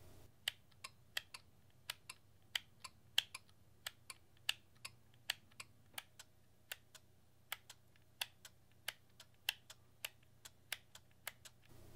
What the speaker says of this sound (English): when you change the aperture on the Sigma, it kind of makes some more noise than I'm used to